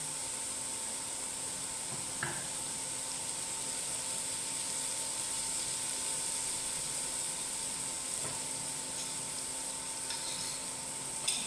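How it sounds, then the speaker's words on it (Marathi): Chopped onion frying gently over a low gas flame, giving a steady soft sizzle with faint crackles for the whole stretch and a few light knocks of a utensil, close and even with no voices. "आता हा कांदा ना छान मऊसर होईपर्यंत तळून घ्यायचा आहे म्हणजे घाई करायची नाही मोठा गॅस ठेवायचा नाही छोटा म्हणजे बारीक गॅसवर छान तळून घ्यायचा आहे"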